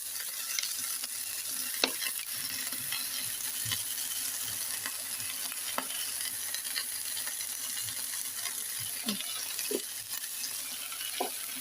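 Kofta pieces fry in a pan with a soft, continuous sizzle, broken by scattered light clicks and taps of a utensil turning them, close and quiet, with no talking.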